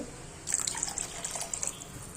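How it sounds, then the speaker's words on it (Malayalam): Water pours steadily into a pot of fish and tomato curry nearby, a splashy, hissing stream lasting a couple of seconds. "അതിൽ കുറച്ചും കൂടി വെള്ളം ഒഴിച്ചു കൊടുക്കുന്നുണ്ട്"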